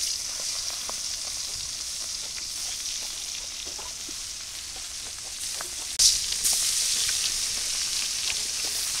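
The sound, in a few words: hilsa fish frying in hot oil in a wok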